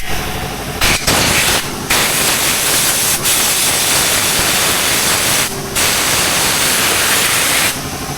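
Compressed air blasts loudly in long hissing bursts across the tone-ring teeth of a 2005 Ford F250 ABS sensor area, blowing out grease, dirt and dust, with brief pauses between sprays.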